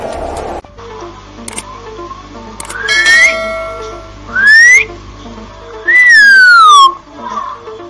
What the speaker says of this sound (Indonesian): Terdengar suara siulan dari daun yang ditiup oleh Senopati Kinoi.